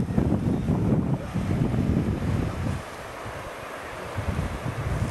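A big old engine aboard a boat, probably an Irish vessel, runs with a steady low rumble under heavy wind buffeting the microphone, and the noise eases somewhat partway through.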